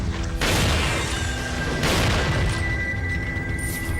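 Shotgun blasts in Resident Evil 4, two heavy booming shots a little over a second apart, each followed by a long, loud ringing tail with steady game noise underneath and no voices.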